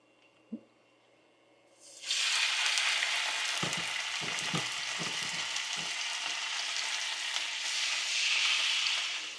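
Mahi fish fillet laid into a lightly oiled pan, a steady loud sizzle of frying starting abruptly after a brief tap and continuing throughout, with a few soft clatters of tongs mixed in.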